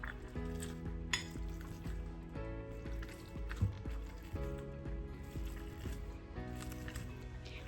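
Cottage cheese mixed with eggs and vanillin being mashed by hand with a potato masher, giving repeated soft squishing presses and occasional clinks against the bowl over steady background music.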